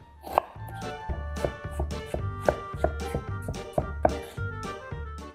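A knife chops potatoes into julienne strips on a cutting board, with close, steady, rhythmic thuds repeating about twice a second.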